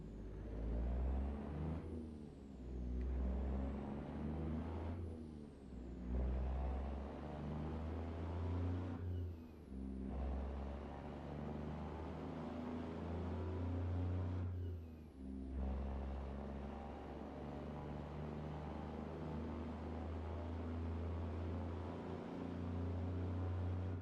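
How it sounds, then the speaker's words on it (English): A heavy truck engine rumbles steadily in American Truck Simulator, with deep idling and revving that rises and falls through several gear changes, loud and close, with no talking. "It is now just start engine."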